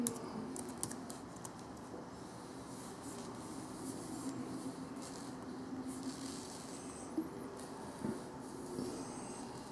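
Soft keystrokes on an Alienware M14X laptop keyboard while logging in, a faint irregular patter of taps over steady room hiss, with no talking.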